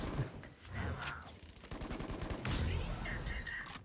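Rapid bursts of gunfire from a powerful gun in a video game, loud and dense, with shots stacking into a busy fusillade that swells again toward the end.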